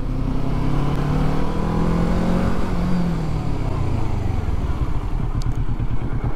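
A motorcycle on a training lesson rounds a corner, its engine loud and close throughout, with a droning tone that dips as it slows and picks up again.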